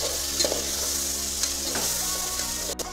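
Chicken with turmeric and ginger garlic paste stirred in a frying pan, a steady sizzle under soft scraping strokes, fairly quiet and close with no talking.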